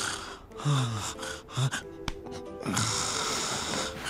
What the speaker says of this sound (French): est-ce que vous l'entendez ronfler comme un porc?